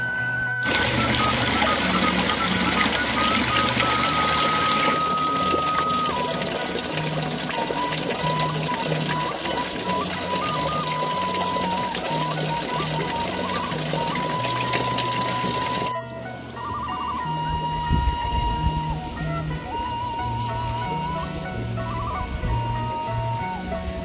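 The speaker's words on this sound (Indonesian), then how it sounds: "Di sini juga ada aliran sungai sahabat" Water flows continuously in a calm river stream beside a roadside coffee stall within the Margawindu tea plantation in Sumedang, a steady close rushing wash with faint tonal background sounds throughout.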